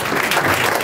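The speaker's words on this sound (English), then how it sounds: "Come on, give him a big hand clap." Crowd clapping at a Chesapeake honoring ceremony, a brief dense wash of hands heard close and loud with no break.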